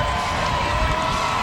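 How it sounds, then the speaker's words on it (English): A dense parade crowd at a downtown Kansas City Royals celebration roars in a steady, loud wash of cheering and shouting, with no breaks. "Just listen to this crowd as they get fired up"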